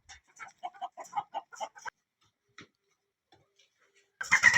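Chickens cluck in a quick run of short, rhythmic calls, fairly close. A few quieter sounds follow, then a louder burst of broadband noise closes the clip.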